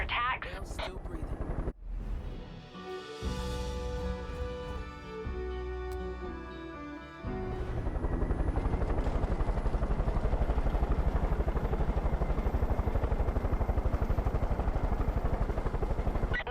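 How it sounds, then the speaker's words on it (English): A recon helicopter in the video game Far Cry 5 drones continuously, a rotor clatter that swells louder and steadier after a few seconds of quieter tonal game sound. "Sounds like the cult's got a recon helicopter in the air identifying resistant strongholds."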